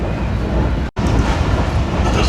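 A passenger train runs at about 110 km/h, recorded from on board. Loud, continuous rushing roar and rumble of wheels on rail, broken by a brief dropout, then the roar resumes.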